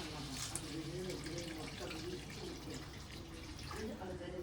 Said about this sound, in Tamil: தேவையான அளவு தண்ணி ஆட் பண்ணிங்க.